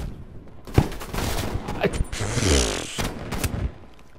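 Gunfire rattles in Call of Duty: Black Ops Cold War as several sharp bursts of rapid shots crackle close and loud, with a sustained volley in the middle and almost no talk.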